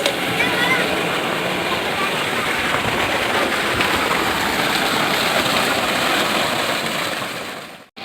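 Tamarind water pours and sizzles into a simmering village-style farmers' fish curry, a steady loud rushing, bubbling wash that fades out at the end.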